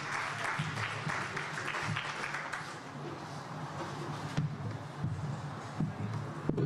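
An audience at a community event at Punjab Bhawan applauds a teacher. Dense, loud clapping at first thins into scattered claps with faint murmuring underneath.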